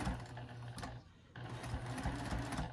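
A domestic sewing machine stitches a small coin and card zipper pouch in steady rapid runs, pausing briefly for about a third of a second midway before resuming, close and clear with no talking.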